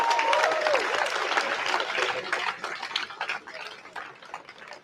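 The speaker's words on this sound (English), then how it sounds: "I think that we should give him another round of applause." A crowd applauds Scott Ritter after his talk at a public gathering. The dense, steady clapping starts loud and gradually thins and fades over about five seconds, with a brief whistle early on.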